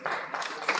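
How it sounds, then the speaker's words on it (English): A lecture audience claps for an MP at a commemorative lecture, a short burst of dense, mid-distance applause with a few sharper claps standing out. "Clap for my MP."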